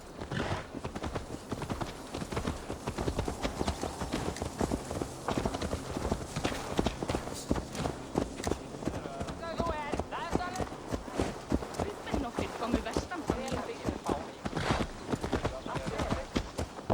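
Horse hooves clip-clop in Assassin's Creed Valhalla, a steady rhythm of hoofbeats running through the whole stretch at moderate level, mixed with game sounds and voices talking over them.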